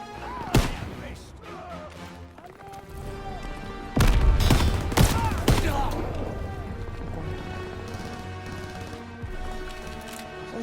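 Trench combat in Call of Duty WW2, with sharp rifle and gun shots cracking near and far among explosive blasts, including a heavy boom midway, while soldiers' voices are heard in the chaos.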